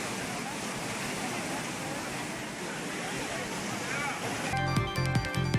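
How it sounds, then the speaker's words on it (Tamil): Courtallam main waterfall pours heavily in the rain as a steady, loud, broadband roar of crashing water. Near the end, music cuts in over it. "சுற்றுலா பயணிகள் ஆக்ரோஷமாக கொட்டும் மெயின் அருவியை ரசித்தவாறே சென்றனர்"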